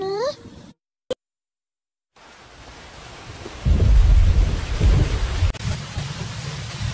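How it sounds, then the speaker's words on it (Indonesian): Rain with rumbling thunder in the Sakura School Simulator game, a steady wash of rainfall starting after a brief quiet gap and swelling into loud low rumbles, with no talking. "Ya, hujan lagi."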